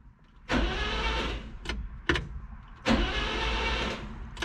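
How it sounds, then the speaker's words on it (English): Old U-Haul mini truck box van, left sitting for years with a corroded starter wire, cranks over in two long bursts separated by brief clicks and pauses, loud and close, without catching. "Right now we're cranking."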